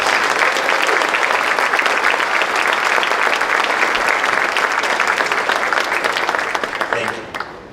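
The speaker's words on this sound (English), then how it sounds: "Please join me in giving these individuals and groups a round of applause." Applause from an audience at a school evening event, thanking sponsors: dense, steady clapping that holds loud for several seconds, then thins and fades toward the end.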